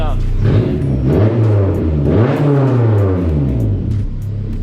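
A Honda S2000 with a Tomei titanium exhaust revs hard and rumbles loudly up close, its pitch rising and falling in repeated surges, with a voice talking over it.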